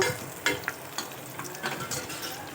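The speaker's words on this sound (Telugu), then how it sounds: "ఉల్లిగడ్డ ఎండుమిరపకాయ జీలకర్ర కరివేపాకు వేసుకున్నాము కొంచెం బాగా వేగనిద్దాము" Onion, dried red chillies, cumin and curry leaves fry in hot oil for village-style tomato rasam, a steady close sizzle with occasional spoon stirring and scraping and no speech.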